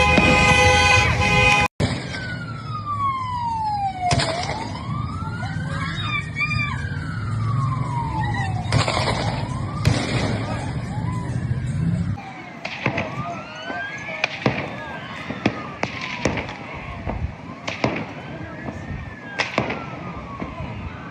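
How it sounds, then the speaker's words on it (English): Gunshots from played-back footage ring out as sharp, loud cracks scattered irregularly through the recording, mixed with wailing emergency sirens and a steady background rumble. "Listen to the sound of the shots."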